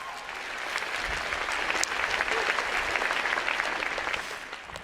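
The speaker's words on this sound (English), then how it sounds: "Make some noise for Frosty Freeze" Steady applause from a crowd at a TEDx talk, dense clapping that swells slightly and holds for several seconds, with faint cheering underneath.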